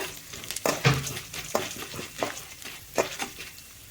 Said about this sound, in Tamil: கடலைப்பருப்பு, உளுந்து இது ரெண்டையுமே நம்ம சேர்த்துக்கலாம். சேர்த்துட்டு நல்லா கலந்து விட்டுக்கோங்க.